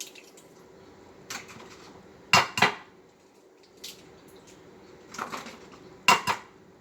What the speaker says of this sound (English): Everybody has their way of cracking eggs.